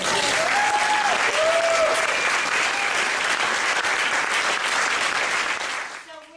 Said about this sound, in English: So let's applaud ourselves.